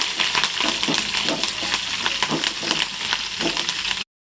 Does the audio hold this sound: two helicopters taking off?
no